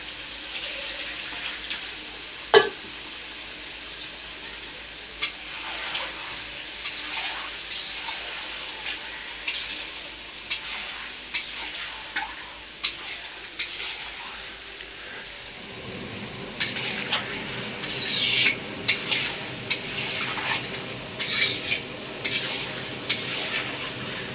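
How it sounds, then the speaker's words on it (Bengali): Food being sautéed in a pan for kosha gives a soft, steady sizzle with occasional scrapes and knocks of stirring. The sound grows busier and noisier in the later part. "আর এটা মনে হয় ফুটো, সব জলটা গলে গেল।"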